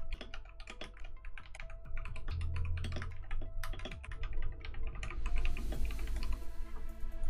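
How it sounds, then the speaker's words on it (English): Rapid, continuous typing on a computer keyboard, with irregular clusters of close key clicks and the occasional heavier thump of a spacebar or enter key. "I'm going to have to type in my next prompt here."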